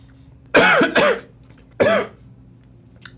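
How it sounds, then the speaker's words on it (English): Three harsh coughs close by from someone eating spicy food, two in quick succession and one more after a short pause, against a quiet room. "It's making me cough."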